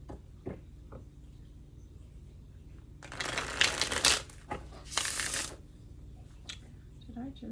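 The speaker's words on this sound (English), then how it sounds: "I thought I just shuffled them against each other." A deck of playing cards is riffle-shuffled up close, with a long rippling burst followed by a second quick riffle and a few soft card taps around them.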